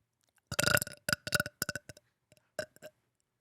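A person lets out a long, loud, gurgling burp that breaks into several rough pulses, followed by a few shorter trailing burp sounds, close and alone against silence.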